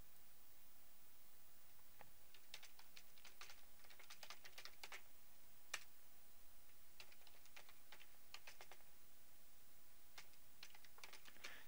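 Quiet tapping on a computer keyboard while a GitHub username and password are entered, with irregular bursts of soft keystrokes and brief pauses, no talking.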